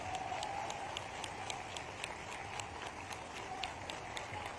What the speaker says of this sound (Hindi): जरा पीछे से ताली कम बज रही है